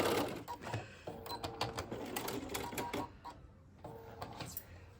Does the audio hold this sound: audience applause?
no